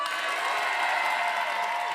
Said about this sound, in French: on peut applaudir très très fort Monsieur Bruno